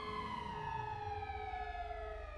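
Police siren from GTA 5 Online, wailing steadily with a slowly falling pitch and layered harmonic tones over a low rumbling engine drone, loud and continuous without any talk.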